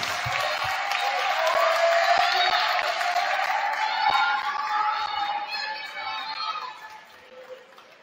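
A gym crowd at a men's college basketball senior night, Washington Adventist University against Clinton College, applauds and cheers in a sustained, loud wash of clapping with scattered whoops that fades over the last couple of seconds.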